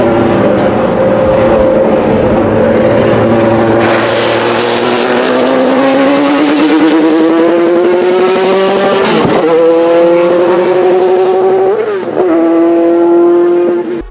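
A race-tuned 4-liter V8 in the Ferrari F430 GTC GT2 race car from Need for Speed Shift screams loud and close, its pitch climbing steadily through the gears with quick dips at each upshift and no talking.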